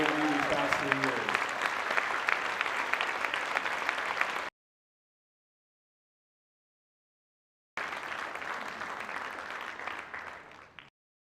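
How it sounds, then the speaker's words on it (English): An audience applauds at a middle school moving-on graduation ceremony. Dense, sustained clapping fills the room in two long bursts, separated by a sudden stretch of silence, and the second burst tapers off at the end. "all of you give them a round of applause for the patience, encouragement, and unwavering support they've given you these past 3 years"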